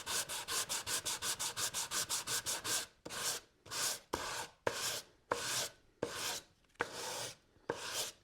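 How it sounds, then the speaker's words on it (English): A sanding block rubs back and forth over a wood veneer surface, first in a quick run of short, even strokes, then in slower, longer separate strokes with brief pauses, close and clear with no talking. "I'll clean that up in real time with the sanding block so you can see exactly what it takes."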